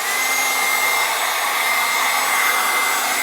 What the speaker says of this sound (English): my trusty Black & Decker heat gun with 2 settings on it.